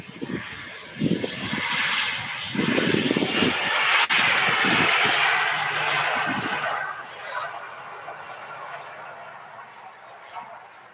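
Ryanair jet taxiing past at Manchester Airport, a loud broad engine roar with whine that swells and holds for several seconds before easing away, with low rumbling bursts in the first half.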